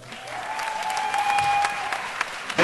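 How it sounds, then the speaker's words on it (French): A crowd applauds a choir at a fiftieth-anniversary ministry celebration, a steady rush of clapping that swells slightly, with a faint sustained tone lingering beneath and a louder clap near the close. "D'applaudir la chorale,"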